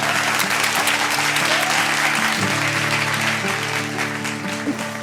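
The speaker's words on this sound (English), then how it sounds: "Please welcome with a round of applause for our very own chef, Chef Sean Kenworthy, ladies and gentlemen." A dense round of applause fills a cooking event hall in Kolkata as Chef Sean Kenworthy is welcomed, steady and fairly loud, with a sustained musical tone or hum running beneath the clapping.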